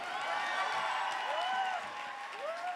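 A comedy show audience applauds and cheers in a continuous wash of clapping, with rising whistle-like whoops and voices mixed in, heard at moderate distance.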